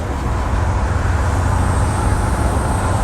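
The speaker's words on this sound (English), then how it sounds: "Hear that turbo whistle?" Turbocharged 1989 Crown SuperCoach school bus on the road, with a loud, steady engine drone and road roar and a faint high whistle riding on top throughout.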